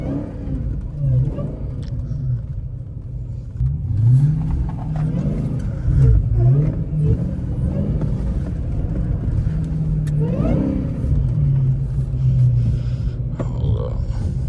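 A Dodge Hellcat's engine rumbles low and steady while driving through snow, swelling with periodic throttle surges and revs, loud and close throughout with no talk.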